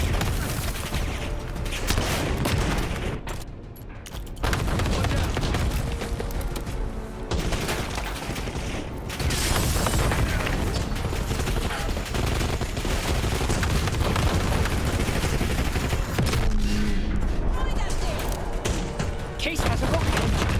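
Call of Duty: Black Ops 6 battle with dense gunfire bursts and heavy explosive booms that continue almost nonstop, mixed with shouted voices over the chaos.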